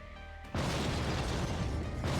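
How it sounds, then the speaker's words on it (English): A bombing explosion in the video game Tonight We Riot bursts in suddenly after a quiet moment, then holds as a loud, dense roar with heavy low rumble for the rest of the clip. No voices are present. "I'm gonna try bombing these again."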